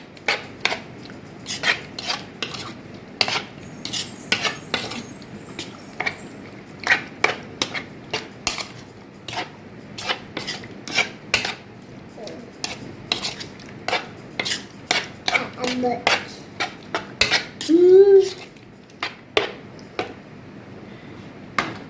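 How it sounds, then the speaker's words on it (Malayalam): A spoon scrapes and clicks rhythmically against a bowl while an egg is mixed in, with dozens of sharp, evenly paced strokes up close and one brief ringing ping near the end. "ഇനി ഇത് സ്പൂണും കൊണ്ട് തന്നെ നല്ലപോലെ ഒന്ന് മിക്സ് ചെയ്യാം"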